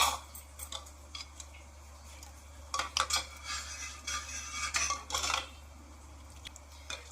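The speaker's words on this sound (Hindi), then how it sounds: "तुक मलंगा डाल के मैंने अच्छे तरीके से मिक्स कर दिया।" A spoon clinks and scrapes against a metal pot while stirring basil seeds into cold milk for a dhaba-style sharbat, irregular taps and swirls close by with no talking.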